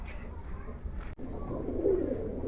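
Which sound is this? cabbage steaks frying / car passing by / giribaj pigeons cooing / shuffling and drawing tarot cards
giribaj pigeons cooing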